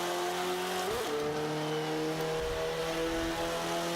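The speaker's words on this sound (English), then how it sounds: "This turbo engine really has some good acceleration" A KTM X-Bow RWD with a turbo engine accelerating in the racing game Forza Motorsport 5, a steady droning engine tone that drops briefly at a gear shift and then climbs again, continuous and close with no talk over it.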